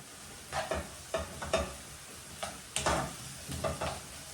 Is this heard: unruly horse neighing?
no